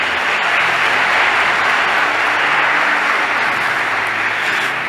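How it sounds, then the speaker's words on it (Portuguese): A congregation gives a round of applause in church during a sermon on the Ascension, steady dense clapping filling the space throughout with no voices over it. "A Jesus uma salva de palmas."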